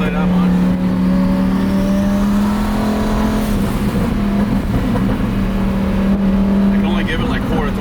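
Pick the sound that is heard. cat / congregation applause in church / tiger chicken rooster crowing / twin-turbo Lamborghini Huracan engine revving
twin-turbo Lamborghini Huracan engine revving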